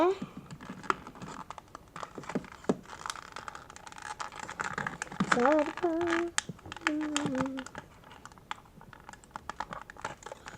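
Scissors snip and scrape through crinkly toy packaging in irregular bursts, with a brief sigh and a couple of murmured vocal sounds mixed in.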